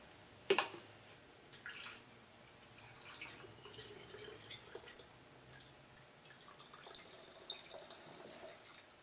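Liquid trickles and drips through a small funnel into a measuring container while truck bedliner coating is mixed for spraying; faint, intermittent splashes and dribbles in a quiet setting.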